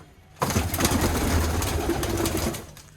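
Pigeons, newly acquired birds for a fancier's loft, burst into a loud close flurry of wing flapping and rustling that runs for a couple of seconds before tapering off, with a faint low coo underneath.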